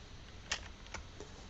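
Code is typed for a MATLAB/Octave function on a computer keyboard: a few sparse, quiet key clicks, three or four taps spread irregularly, heard alone in a still room.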